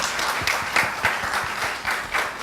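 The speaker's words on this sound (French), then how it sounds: "Sur vos applaudissements." A seated audience at a conference or panel event applauds steadily, a dense wash of many hands clapping at a moderate distance with no talking.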